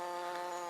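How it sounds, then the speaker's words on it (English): Close, steady buzzing of a leaf cutter bee in a garden, a continuous droning hum with rich overtones lasting under a second. "Now that is a leaf cutter bee."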